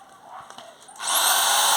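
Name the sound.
drill boring into wood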